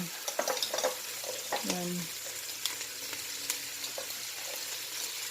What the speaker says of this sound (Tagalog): Igigisa po natin yung alamang.